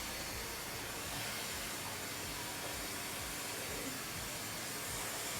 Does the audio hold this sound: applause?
no